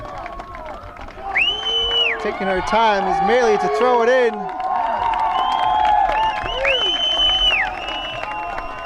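Crowd at a girls' varsity soccer championship, Bolton/Warrensburg versus Fort Ann, cheering and shouting loudly with whistles and high-pitched yells rising throughout, under a commentator's voice.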